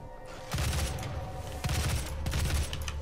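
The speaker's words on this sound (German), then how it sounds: "Dieses Maschinengewehr tötet die Kleinen einfach zu schnell." Bursts of rapid machine-gun fire in the game DOOM (2016) rattle in quick, dense volleys, loud and close, with no talking.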